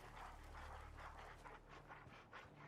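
Dogmeat, the canine companion in a Fallout game, pants steadily in quick rhythmic breaths up close, sustained across the whole stretch with no voices.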